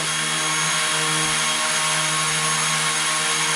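A ZLL SG108 Pro toy drone's motors whir continuously at close range, a steady high-pitched buzzing drone with no pauses and no voices.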